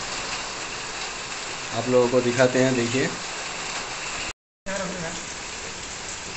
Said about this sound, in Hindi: और बारिश अभी तक हो रही है।